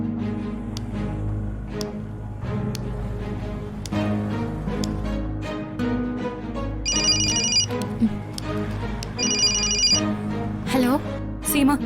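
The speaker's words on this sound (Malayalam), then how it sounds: "നീ ആ സീമയൊന്ന് ഫോൺ ചെയ്തേ." A telephone rings in a TV drama scene, with two distinct bursts of electronic ringing over background music, while people speak.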